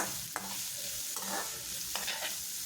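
Cabbage, carrot and beans sautéing over high flame for chicken fried rice, a continuous loud sizzle broken by a few scraping stirs of the spatula.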